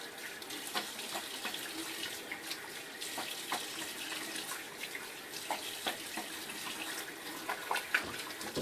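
A bathroom tap runs quietly while someone rinses their face after a shaving pass, a soft steady stream broken by small splashes and hand movements in the water.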